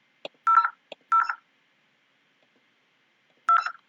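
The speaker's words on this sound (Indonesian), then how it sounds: "coba kita telepon" Short touch-tone dialing beeps from a simulated VoIP phone in Cisco Packet Tracer, heard as a quick cluster of clean tones, then a pause and one final tone, with no voices.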